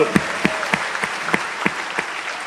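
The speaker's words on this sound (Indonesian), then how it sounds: "Oke, tepuk tangan saya dulu kembali" A seminar audience applauding at a sales training event, with a steady crowd clapping bed and a few sharper, regularly spaced claps standing out from the mass.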